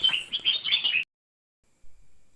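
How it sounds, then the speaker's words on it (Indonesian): A sooty-headed bulbul gives a bright, sharp call with a quick run of chirpy notes, loud and close, then it breaks off into near silence. "kicauan burung kutilang biasa yang nyaring dan tajam"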